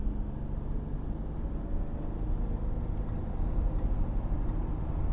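A diesel Audi A4 B7 of about 170 horsepower is heard from inside while driving, a low, steady engine and road drone with faint ticking, moderately quiet and continuous.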